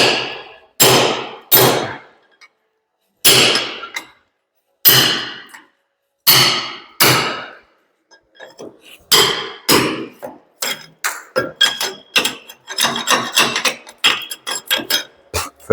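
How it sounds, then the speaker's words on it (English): Heavy lump hammer blows drive a cold chisel into a cast iron window frame, sharp metallic clangs at first spaced apart, then coming faster in a dense run of ringing hits. "So I've got to get the cold chisel in"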